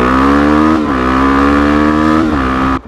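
A motorcycle with a newly refurbished stainless steel exhaust and new clutch revs loudly close by, its engine note holding steady with two brief dips and rises before cutting off sharply near the end.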